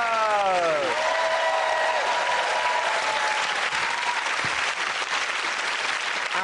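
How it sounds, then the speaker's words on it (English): Studio audience applause on a comedy panel show, loud, dense and sustained throughout, with a host's voice trailing off at the start. "Give a round of applause go to Andy and Russell."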